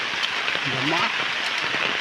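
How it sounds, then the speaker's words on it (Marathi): Steady rain pours onto surfaces outdoors near Chiplun, a dense even hiss throughout, with a voice speaking briefly over it. "पावसाची मजा"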